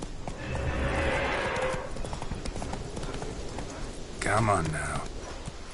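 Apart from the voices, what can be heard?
horse Roach's hooves clip-clopping in the video game The Witcher 3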